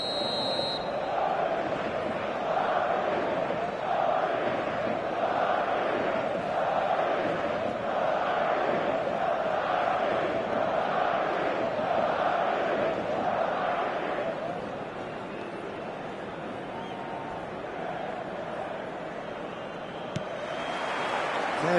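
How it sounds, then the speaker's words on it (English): A packed stadium crowd in the eFootball football game roars with rhythmic chanting and swelling waves of noise, which settle into a lower, steady murmur before the crowd lifts again at the end. "The stadium is full of noise and energy."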